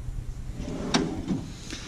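A drawer on a mechanic's tool box slides open or shut. A short, sharp metallic clack lands near the middle, followed by a softer rattle, against a quiet room.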